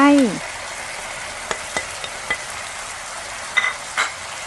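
Tofu sauce with Chinese celery stir-fried in a pan, a steady close sizzle with a few sharp scraping clicks of a utensil stirring, no talking.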